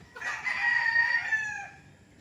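A rooster crows once, close and clear, a single drawn-out call on a gamecock training farm in Nagcarlan, with a quiet rural background.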